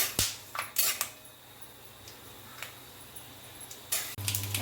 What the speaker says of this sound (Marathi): हे हलवीत राहायचे जरा